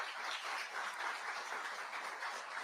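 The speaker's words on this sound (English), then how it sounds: "So please give them a round of applause" Faint, distant applause rolls evenly at a Senate hearing for a rescue team, a soft continuous wash of many hands with no distinct individual claps.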